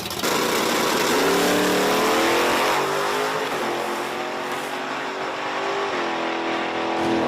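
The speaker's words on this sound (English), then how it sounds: "S10 pickup truck in the left lane going up against the Nova in the right lane" An S10 pickup truck and a Nova drag race side by side at Virginia Motorsports Park, engines roaring loudly and rising in pitch through shifts as the cars accelerate and pull away, with no voices.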